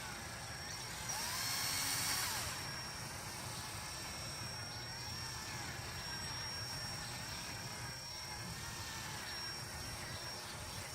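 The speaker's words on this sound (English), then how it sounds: "letting the drill do all the work" A power drill with a 3M polishing pad works a long scratch on a car's paint, giving a steady, moderately faint whirring hum with a slight swell in pitch and loudness early on, and no speech.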